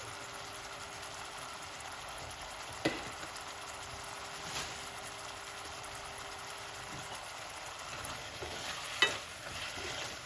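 Jamaican jerk callaloo and seasoned vegetables fry in a pan while being stirred, giving a faint, even sizzle with a few quiet spoon knocks against the pan.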